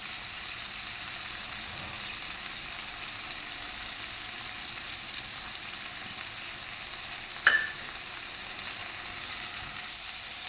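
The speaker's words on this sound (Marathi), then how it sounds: "ते डाळ घालून घेऊया आपण" Dal added to ghol greens in a pan sizzles in a steady, even hiss, with a single brief clink partway through and no voices.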